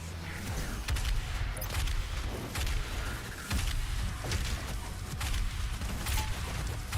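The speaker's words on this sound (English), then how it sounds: "let's try the ice grenade" Ice grenade explosion in Doom Eternal, heard within a dense stretch of game combat: thumping blasts and rapid gunfire keep layering over one another, loud and continuous for the whole stretch.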